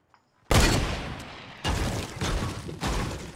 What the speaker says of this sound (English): Oh my god, this cunt is really shooting at me from all the way over there.